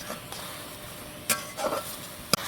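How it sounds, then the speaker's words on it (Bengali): Spice paste of ginger, coriander, chili, turmeric and salt frying in a pan, heard as a low continuous sizzle with a few quick stirring scrapes and one sharp utensil tap near the end. "এখন আমি মশলাটাকে কষিয়ে নেব।"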